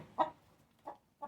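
A broody, aggressive hen gives three short, soft clucks spaced evenly apart, close but faint, in an otherwise quiet setting.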